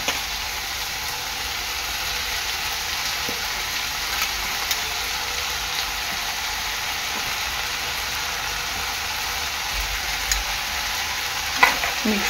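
Chopped vegetables and spring onion for veg spring rolls sizzle steadily in a hot pan, with a constant dense frying hiss and occasional faint scrapes of stirring throughout.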